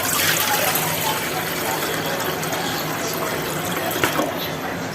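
Water pours steadily into a cooking pot with a continuous splashing rush, close by, while a voice speaks over it.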